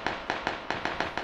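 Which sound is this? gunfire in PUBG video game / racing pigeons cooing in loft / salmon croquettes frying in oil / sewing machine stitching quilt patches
gunfire in PUBG video game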